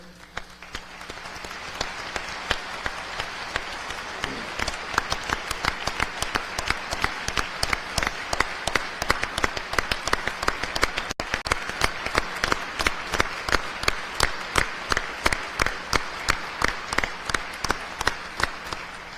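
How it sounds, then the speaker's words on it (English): Audience applause in the Missouri House chamber for Attorney General Catherine Hanaway during the 2026 State of the State address, building into steady clapping that swells and settles into a rhythmic, sustained ovation with no talking over it. "she got more applause than Monsignor Kawicki did"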